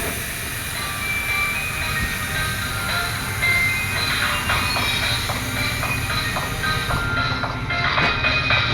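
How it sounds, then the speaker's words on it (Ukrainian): A diesel locomotive train on a children's railway rolls along the rails nearby, a steady heavy rumble with rhythmic clacking wheels and a faint high squeal. "На залізниці працює поїзд Дніпро, водить його тепловоз."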